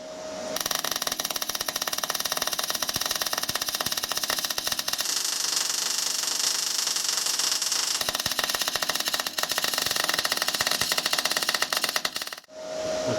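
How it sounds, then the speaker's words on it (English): R-Tech MIG180 MIG welder running a bead on steel plate, a continuous loud crackling, sizzling arc buzz with dense irregular pops for about twelve seconds, then stopping abruptly. "I'll zoom in, run a weld bead down it and see what sort of result we can get."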